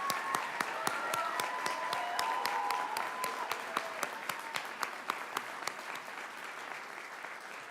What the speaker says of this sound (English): Will the audience please join me in one last round of applause?